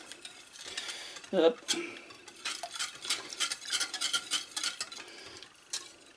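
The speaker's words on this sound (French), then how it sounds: "On remélange ça vite fait." A spoon briskly stirs cannelé batter made with Maroilles cheese in a bowl, quick uneven scraping and clinking strokes close by, with a brief spoken word early on.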